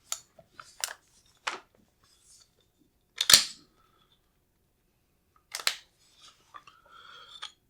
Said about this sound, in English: So basically we just pop the upper and lower receiver like you do a regular AR.